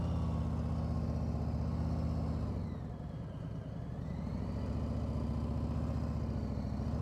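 A motorcycle engine idles steadily, then its pitch dips and wavers briefly as the throttle is loaded and the clutch is slowly released while the rear brake is held, before settling back to a steady hum.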